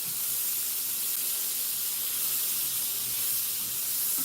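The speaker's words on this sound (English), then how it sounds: "Man, this pan's going." A pan sizzles loudly and steadily while brown butter crepes cook, a continuous close hiss with no talking.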